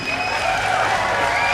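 Esports arena audience applauding and cheering at a League of Legends semi-final, a steady dense roar of clapping that holds at full level throughout without a break.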